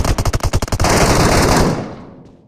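Rapid bursts of machine gun fire in the PUBG Mobile Metro Royale video game, loud and close, a fast stuttering volley that blends into sustained fire and then fades out.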